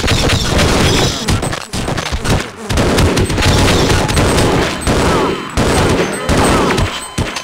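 Gunfire in Half-Life, heard as a loud, close, dense string of rapid shots and bursts broken by a few brief pauses, with crashing impacts mixed into the barrage.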